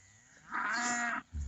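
A farm cow, mother to twin calves, lets out a single strong, resonant moo that swells in and holds for nearly a second before stopping. Faint background rumble surrounds it, with no other voices.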